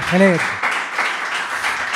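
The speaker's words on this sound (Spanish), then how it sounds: "Un aplauso para ti, por favor" Studio applause for a guest on a Spanish Eurovision-themed TV show, opening with a short vocal cheer before a busy round of clapping from the audience.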